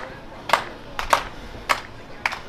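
At a live wrestling show, a few sharp, rhythmic claps ring out about every half second over low crowd murmur, as a wrestler tries to rally the audience.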